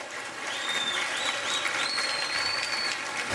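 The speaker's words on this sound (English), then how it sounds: "Let's give a round of applause once again to the New York Young Arts Foundation Chamber." An audience at a community celebration applauds a chamber ensemble, many hands clapping steadily at moderate volume with a faint high whistle or squeal threading through.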